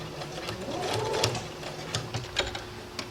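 A sewing machine stitches cream thread around a skirt in a steady, close, whirring run of needle strokes, with a few louder clicks of the mechanism near the end.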